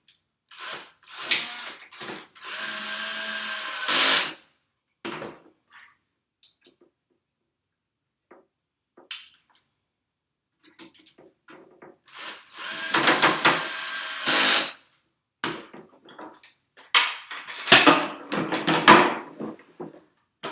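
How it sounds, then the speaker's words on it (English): A power drill drives two screws into a crossbar in two separate bursts, each a sustained whirring buzz lasting a few seconds, separated by quiet pauses and small handling clicks. "Then attach with 2 screws."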